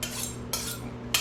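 A kitchen knife is sharpened before slicing: two quick scraping strokes of the blade, loud and close, are heard over a steady low hum, with no voices.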